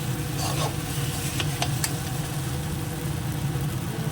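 Spice masala with two kinds of chilli stir-fries in oil in a pan, giving a constant, close sizzle with occasional scraping strokes and no talking.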